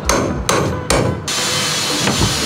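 A hammer strikes metal three times in quick succession, loud sharp ringing blows close by, followed by a steady noisy hiss.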